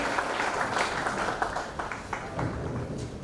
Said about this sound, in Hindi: ओम प्रकाश सिंह जी के लिए एक बार जोरदार तालियां